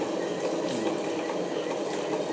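Water poured into a wet grinder of soaked rice and lentils for idli and dosa batter, a continuous close splashing gush that runs evenly throughout at moderate level.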